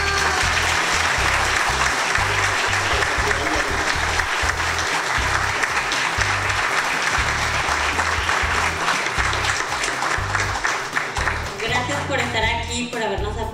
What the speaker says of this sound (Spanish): Este es el último aplauso.